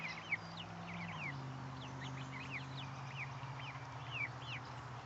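Chickens cluck and chatter softly in short, scattered calls over a steady low hum, fairly close but not loud.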